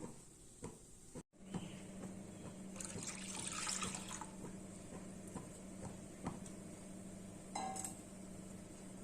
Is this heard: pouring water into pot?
yes